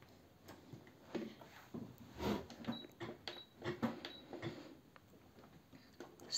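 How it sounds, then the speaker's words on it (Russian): A domestic sewing machine stitches knit fabric for women's trousers, giving a quiet run of mechanical ticks and creaks that comes in short bursts with brief pauses, with no talking. "Сначала вот так я строчу"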